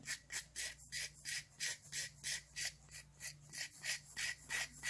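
A 180-grit nail file rasps back and forth over a gel manicure in a steady, even rhythm of about fourteen short strokes, close and soft, with no talking.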